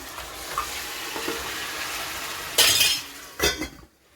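Mutton tipped into a pot of sautéed onions for a potato and mutton curry, a steady close sizzle with clinks of a utensil against the pot and two sharper bursts near the end, no voices.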